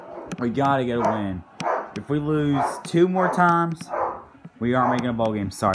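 Dog barking in short repeated bursts close by, mixed in with someone talking over it throughout.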